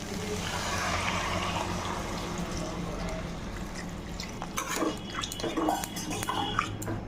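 Water is poured into a pot of potato and soya chunk curry, a steady rushing splash that tapers into drips and light clinks of cookware, with a voice talking partway through.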